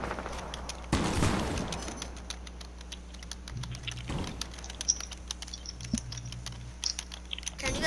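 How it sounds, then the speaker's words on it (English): Computer keyboard typing during a Fortnite session on PS4, a steady run of close, quick clicky keystrokes with a few louder thumps, continuing alone without talk. "Can you guys hear my keyboard?"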